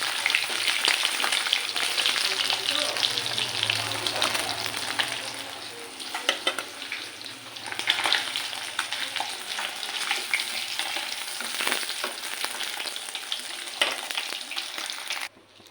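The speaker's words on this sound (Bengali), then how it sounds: "এখানে মাছ ভাজা হয়ে গেছে, আমি উঠিয়ে নেব মাছটাকে।" Tilapia fish frying in oil makes a dense, steady crackling sizzle close by, with occasional louder pops and light utensil knocks, before it cuts off abruptly at the end.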